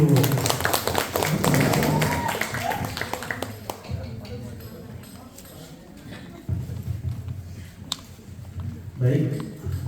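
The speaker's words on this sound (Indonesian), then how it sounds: "Beri tepuk tangan dulu." Audience applause at a village tourism talk show, dense clapping over murmuring voices for the first few seconds, then fading into quieter room noise with scattered claps near the end.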